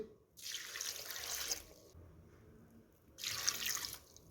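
Water from a tap or glass is poured into a pressure cooker in two clear bursts, a bright splashing gush, a short pause, then a second pour, close and alone.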